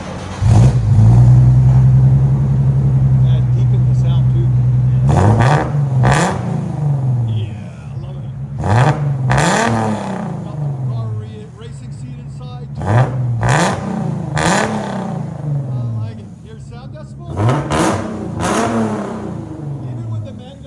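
A 1994 Nissan 300ZX with a 3.0L engine and a muffler-delete exhaust idles loudly, then gives a series of sharp, repeated revs that rise and fall in short bursts, close up with a steady low rumble between them.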